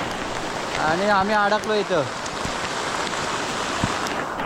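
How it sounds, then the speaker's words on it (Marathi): Heavy rain pours steadily in a forest on a high hillside, a dense even hiss throughout, while someone speaks briefly over it. "जोरात पाऊस आलेला आहे बघा. पाऊस एकदम जोरात आलाय"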